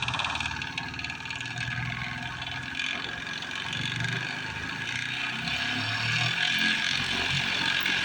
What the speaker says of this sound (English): Full power! Showing 3400 RPM in the star configuration at 80 volts and 6600 RPM in delta